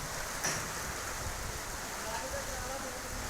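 Heavy rain pours down in Lahore as a steady, dense hiss that fills the whole clip, with a small bump near the start and no clear voices.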